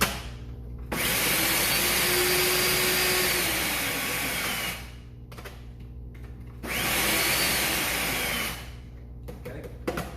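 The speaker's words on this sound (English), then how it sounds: "We're going to put this into our food processor first, let that go for just a couple seconds so that can kind of grind up initially." A food processor grinds crispy brown rice cereal in two loud bursts, the first running about four seconds and the second about two, with a short pause between them and no talking.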